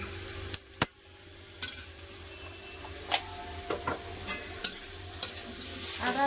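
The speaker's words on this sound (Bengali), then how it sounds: "রসুন টমেটো ভালো করে ভেজে দেবো যতক্ষণ না কাঁচা গন্ধটা যায়" Ginger-garlic paste and chopped tomato fry in a pan with potatoes and onion, giving a soft steady sizzle broken by several sharp spoon clicks and scrapes against the pan, close by and with no talking.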